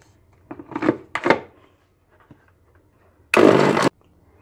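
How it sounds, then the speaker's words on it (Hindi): A kitchen mixer grinder pulses briefly on boiled spinach with a little water for paste, a loud half-second whir after a few clunks and knocks from the jar being handled. "अब मैं इसे ग्राइंड कर लूँगी।"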